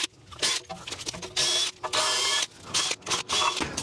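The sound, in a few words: wire wheel brushing Lexus LX 570 brake caliper bracket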